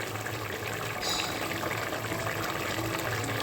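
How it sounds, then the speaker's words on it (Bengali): Pabda fish curry in a thin white gravy is poured from the pan onto a serving plate as a steady liquid gush, close and continuous, with a slight surge partway through. "এবারে আমি একটা সার্ভিং প্লেটে ঢেলে নেব"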